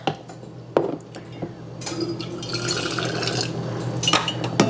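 Hot water pours steadily around glass jars in a container after a few clinks of glass, the stream rising to a fuller gush near the close.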